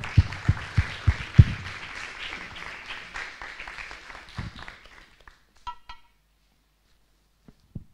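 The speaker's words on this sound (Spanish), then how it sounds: "un aplauso para el modelo" An audience at a church revival congress claps in a burst of applause that gradually thins out and fades to silence, with a few scattered claps at the end.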